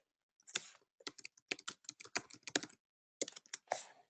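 Fast, irregular clicking of fingers typing on a computer keyboard, close and fairly quiet, in short bursts with a brief pause partway through and no voices.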